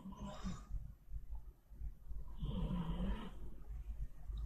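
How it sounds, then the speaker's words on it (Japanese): People snoring while asleep, two rough, rasping snores with a pause between, close to the mic against a low background rumble, with no talking. "どっちのいびきがうるせえか今日決めよう"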